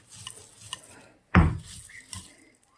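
Coarse Solapuri peanut chutney being moved onto a plate, heard as soft scraping and light clinks of a spoon on dishware, with one louder knock in the middle; nobody talks.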